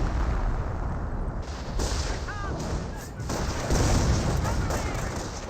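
Artillery barrage in the Company of Heroes video game, with continuous rumbling booms and blasts that stay loud and dense throughout, a few sharper bursts standing out amid the steady roar of battle.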